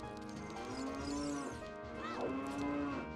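Cattle lowing from the Ocarina of Time video game, several drawn-out moos rising and falling in succession over a steady game background, heard clearly with no talking.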